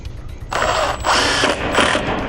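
A 5/16 nut runner drives flange bolts with washers into the underside of a mobile home, giving two or three close, loud bursts of whirring, ratcheting power-tool noise with brief pauses between them.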